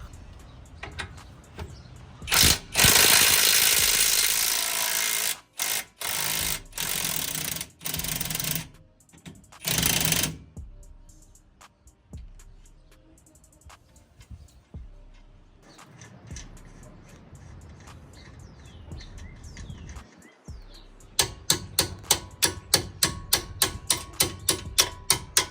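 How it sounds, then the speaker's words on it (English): A wrench works the top shock bolt loose on a 3rd-gen Toyota Tacoma rear shock. Loud buzzing power-tool bursts run for several seconds, then give way to quieter handling and a rapid run of ratchet-like clicks at the end. "start by removing the bolt on the top of the shock here"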